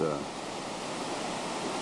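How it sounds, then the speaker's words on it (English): Small mountainside waterfall in Alaska rushing down into a stream, a steady broadband wash of falling water filling the whole clip at a constant, fairly close level. "here's a little waterfall coming right down the side of the mountain into a stream"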